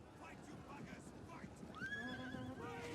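Horses neighing during a Total War: The Dawnless Days battle with horse archers, a rising whinny cutting through clattering battle noise while someone talks quietly underneath.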